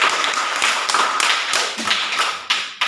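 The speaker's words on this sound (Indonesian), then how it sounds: "kita berikan tepuk tangan" Short burst of applause from students in a classroom, close claps in a fairly rhythmic pattern that thins out near the end.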